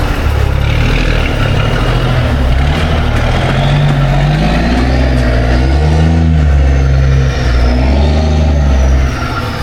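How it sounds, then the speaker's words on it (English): A loud truck roars past close by, its heavy engine rumbling steadily for several seconds with a rising and falling drone, no talking over it. "Was that loud, that truck?"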